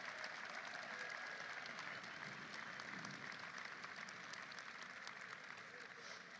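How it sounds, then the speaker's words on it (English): Sustained applause from a crowd honouring the Senate Democratic caucus at a White House event, a dense steady wash of clapping filling the room without pause for several seconds. "Let's have a round of applause for our great caucus."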